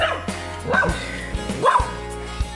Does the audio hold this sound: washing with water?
no